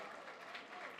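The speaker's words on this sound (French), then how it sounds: "Je vous demande de l'applaudir, s'il vous plaît." An audience at a Rotary Club ceremony applauds, a faint, brief patter of clapping from the crowd with no talk over it.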